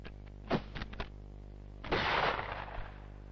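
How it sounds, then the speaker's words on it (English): An early flintlock musket fires: a few quick crackles of the pan flash, then after a short pause the louder, longer barrel blast, heard in slowed-down film against a steady hum. "Notice the extra blast as the barrel goes off after being ignited by the pan flash."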